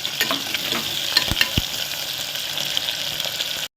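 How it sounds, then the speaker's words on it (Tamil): Small shallots sauté in hot oil in a pan while being stirred for an avial, a steady close sizzle with scraping stir strokes and occasional clinks, no talking. "சின்ன வெங்காயம் நல்லா வதக்கி விடுங்க வெங்காயம் வந்து வதங்கட்டும்"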